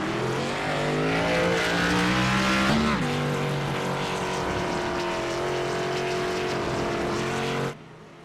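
A NASCAR stock car in a racing video game at Circuit of the Americas roars loudly with a sustained engine note, a brief tyre lock-up squeal cutting in midway before the sound drops off abruptly.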